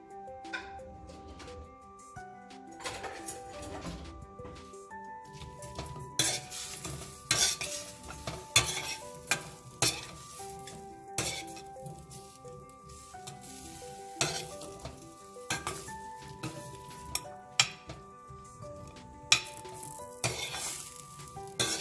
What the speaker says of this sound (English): We just start with onion and some green chilies.